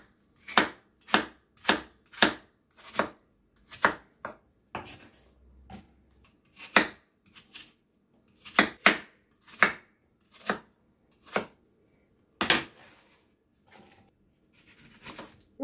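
Knife chopping apples into very thin slices on a board, a steady series of close, crisp cuts in quick rhythm, with a short pause midway before the chopping resumes.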